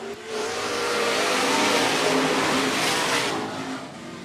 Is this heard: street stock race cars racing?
yes